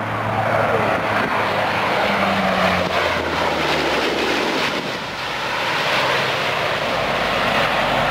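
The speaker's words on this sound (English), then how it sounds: "The C-130 Fighter Hercules." A Lockheed Martin C-130 Hercules of the South African Air Force flies an aerial display, its propeller engines droning loud and continuous, swelling and easing slightly as it passes.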